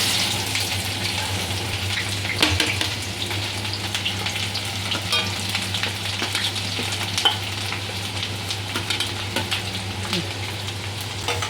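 Onions fry in hot oil with mustard seeds, cumin and a little urad dal for rice uppittu, giving a steady close sizzle with occasional stirring scrapes and pops.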